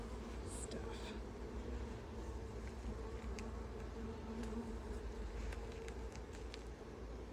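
Honeybees buzz in a dense, steady drone around an open Langstroth beehive during an inspection, close and continuous, with faint clicks of frames and equipment.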